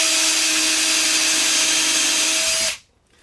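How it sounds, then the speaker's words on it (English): A power drill drives a drywall screw into a wooden drawer with a loud, steady high whir up close for under three seconds, then stops abruptly into near silence. "we're just going to be drilling a screw in the back here"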